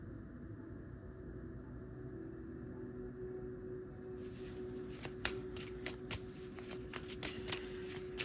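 Oracle cards shuffled for a reading: quiet background hum at first, then about four seconds of quick, crisp riffling and snapping card sounds close by, with irregular sharp clicks.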